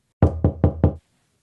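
Four firm knocks on a door in an even, quick rhythm, close and distinct, followed by silence.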